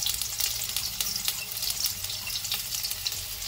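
Garlic and pepper fry in a pan with a steady, dense sizzle throughout, carrying faint scraping and liquid crackle underneath.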